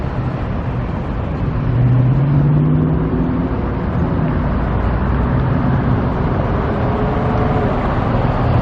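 Trucks pass by on a road near the Tropicana Las Vegas demolition site, a loud, steady roadway rumble with engine tones sweeping up and down as they drive past.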